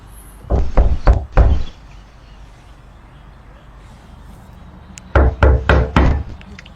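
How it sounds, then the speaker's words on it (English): Someone pounding hard on a house door as if trying to break it down: a volley of four heavy thuds, a quiet pause of several seconds, then another fierce burst of four blows. "Open this door, I'm breaking it fucking down."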